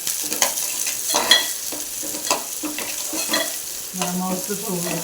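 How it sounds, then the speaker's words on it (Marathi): Chopped onion fries in oil for a Marathi tendli (ivy gourd) vegetable dish, a steady close sizzle broken by repeated scraping stirs of a spoon against the pan, with no voices. "कांदा हे छान असं गोल्डन कलर व्यवस्थित भाजून घेऊया"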